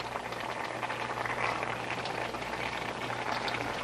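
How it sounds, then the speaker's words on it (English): Steady bubbling and hissing of a seafood dish at a rolling boil on the stove, a dense continuous simmer close by with no talking. "Since this is boiling nicely, I can lower the heat to medium-high"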